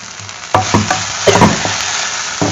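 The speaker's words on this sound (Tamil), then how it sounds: "இது கொஞ்சம் நல்லா ஹை ஃப்ளேம்லேயே வச்சுட்டு நம்ம நல்லா பரட்டி எடுத்துட வேண்டியதுதான்." Okra (lady's finger) frying on a high flame, with a steady broad sizzle and several sharp scraping stirs of the pan, close and loud with no talking.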